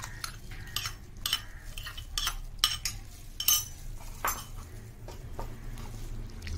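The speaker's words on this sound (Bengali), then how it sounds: "আর এভাবে আমাকে এভাবে নাড়তে হবে, নতুবা দলা পাকিয়ে যাবে।" Rice is stirred in a pot while cooking for mango firni, the spoon giving repeated close scrapes and light metallic clinks against the pot in an uneven rhythm, with no talking.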